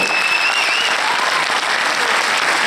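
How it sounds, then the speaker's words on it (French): Dense, sustained applause from a theater audience at a film premiere, a steady wash of many hands clapping at even loudness with no gaps, faint whistling tones above it. "on l'applaudit bien fort"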